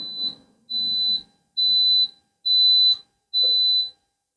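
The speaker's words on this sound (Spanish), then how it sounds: "Al finalizar aparece off y nos avisa con esos 5 pitidos" A Cecotec GM H Fry air fryer pot sounds its finished alert: five loud, evenly spaced electronic beeps, each about half a second, with silence between them.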